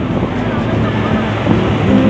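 Steady wash of surf and wind noise at Double Six Beach, Seminyak, Bali, in the late afternoon fills the clip, a broad continuous roar with no clear individual wave breaks.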